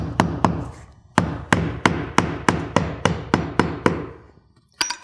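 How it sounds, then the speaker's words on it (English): A hammer drives nails into a vinyl siding J trim corner during installation: a rapid series of about a dozen sharp, close, evenly spaced strikes with a brief pause, then one final knock, no talking. "So we can go ahead and nail this corner off."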